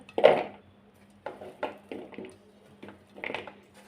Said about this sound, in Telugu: ఇప్పుడు మనం ఇవన్నీ ఒక బౌల్లోకి వేసుకోవాలి